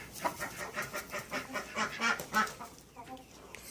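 A flock of chickens in a paddock clucking and squawking close by in a steady, busy chatter, with no talking.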